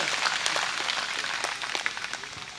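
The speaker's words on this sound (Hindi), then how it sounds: "एक बार जोरदार तालियां लाइनमैन साहब के लिए" Applause from an audience at a cow-welfare donation gathering, saluting the lineman: a dense, steady patter of many clapping hands that holds at an even level throughout.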